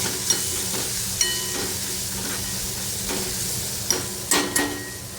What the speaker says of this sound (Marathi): आता हे सगळं व्यवस्थित मिक्स करून घेऊया।